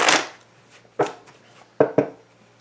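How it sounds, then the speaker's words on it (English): Tarot deck being shuffled by hand: four short, crisp riffling bursts come at an irregular pace, close up and clear, with near silence between them. "let's go ahead and get a shuffle in here"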